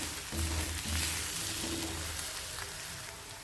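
Boiled eggs frying in oil in a pan over a low flame, a steady close sizzle and crackle running throughout with no talking.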